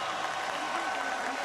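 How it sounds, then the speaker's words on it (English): An arena crowd applauds both boxers after a full-distance professional bout, a steady wash of clapping heard from a distance under an announcer's voice. "A round of applause for both of these gladiators."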